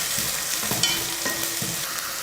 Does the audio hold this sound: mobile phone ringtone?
no